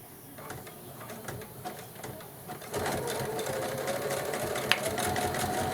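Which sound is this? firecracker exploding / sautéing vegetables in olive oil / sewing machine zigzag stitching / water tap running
sewing machine zigzag stitching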